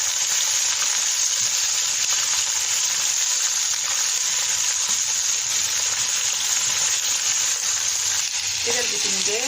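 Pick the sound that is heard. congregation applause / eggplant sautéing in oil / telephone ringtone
eggplant sautéing in oil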